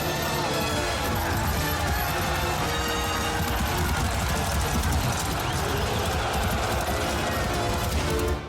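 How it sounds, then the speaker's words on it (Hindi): Dense, continuous battlefield gunfire in a war film set in the Battle of Warsaw, with rapid overlapping shots and crashes filling the whole stretch at a loud, unbroken level. "लेकिन वो गोली चला रहे हैं।"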